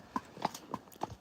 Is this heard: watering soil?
no